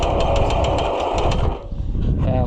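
An Oliver HG-68 crawler tractor engine runs steadily after its magneto timing was adjusted, a loud, close, even idle with a rhythmic knocking pulse that softens briefly before picking back up.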